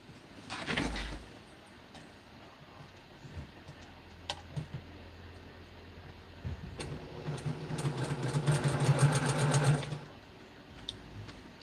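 A sewing machine joins quilt pieces in a home sewing room, starting with a brief burst, then running in a steady mechanical hum for about three seconds before stopping, with a few small clicks around it.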